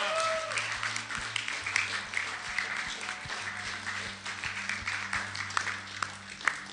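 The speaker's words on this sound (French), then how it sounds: "Let's give the Lord a hand for what we heard tonight." Congregation applauding during an evening church service, a steady wash of many hands clapping from the room at moderate distance, with a low hum running underneath.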